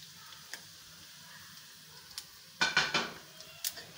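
Cumin and nigella seeds go into hot oil in a pan while cooking masala bhindi, making a short burst of crackling and sputtering followed by a few clinks of utensils against the pan, at close range.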